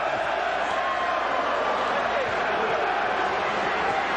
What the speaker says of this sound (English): They're cheering downstairs. The applause is building.